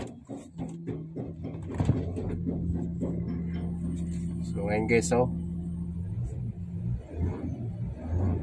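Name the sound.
2012 Kia Mohave engine started after tensioner replacement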